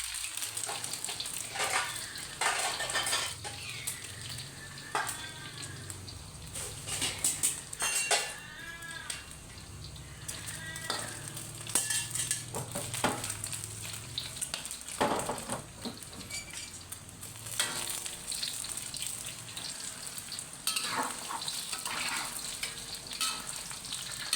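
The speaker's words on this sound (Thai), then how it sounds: "มาเจียวไข่กรอบ ดูนะครับ" A crispy Thai omelette fries in hot oil in a wok, sizzling and crackling steadily close by, with repeated scrapes and clinks of a utensil against the pan and occasional louder bursts of spattering.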